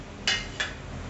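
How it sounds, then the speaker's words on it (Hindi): Peeled, boiled taro (arbi) pieces, chopped small, drop into a cooking pan with two soft, brief clatters in quick succession and no talking. "छोटे छोटे टुकड़ों में काट के मैं यहाँ डाल रही हूँ"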